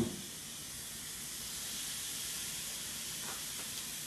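Seasoned beef sirloin searing in a hot frying pan, a faint steady hiss and sizzle heard close and continuous after a brief initial burst.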